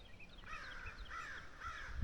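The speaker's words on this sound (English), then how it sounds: "Hear them crows?" Crows caw outdoors in the morning, with three hoarse calls evenly spaced and moderately close, standing clearly above a quiet background.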